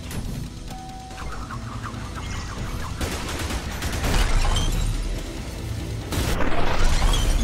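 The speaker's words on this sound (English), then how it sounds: "Grenade launcher. Got them all." Grenade launcher shots in ULTRAKILL, a few heavy blasts and crashing impacts building in loudness over several seconds, with no talk.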